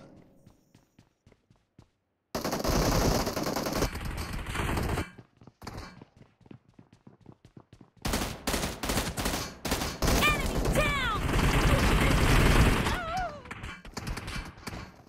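Gunfire in the video game BGMI gun game mode comes in two long bursts of loud, rapid automatic shooting separated by a short lull, with footsteps and small game effects in the gaps.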